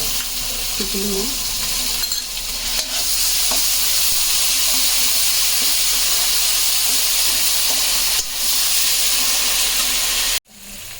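Ginger, garlic, onion and garam masala paste frying in a pan for chepala pulusu, a dense loud hiss of sizzling that runs steadily, with a brief clink and a faint voice early on, before cutting off abruptly near the end.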